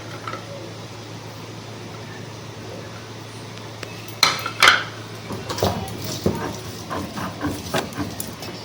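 Garlic and spices being ground by hand on a stone slab (shil) in a home kitchen: a low steady hum at first, then irregular knocking and scraping strokes of stone on stone, fairly close, with no talk.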